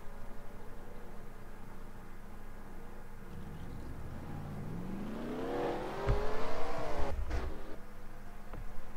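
Race cars in the NNSCRA Budweiser All Pro Series AAA 400, a NASCAR video game, rolling along pit road; a steady engine drone rises as cars approach and pass close by, with louder revving near the end and no talking.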